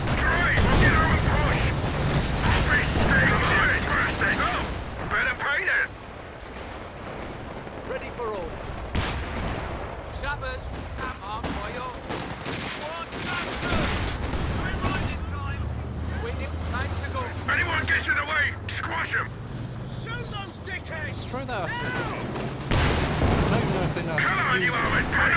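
Artillery barrages and gunfire in the real-time strategy game Company of Heroes 2, with repeated booming impacts and rumbling blasts running throughout under frequent talk from players.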